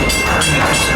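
A Walt Disney World Railroad train rumbles loudly along the rails at the Magic Kingdom, a dense steady roar with faint rhythmic clatter.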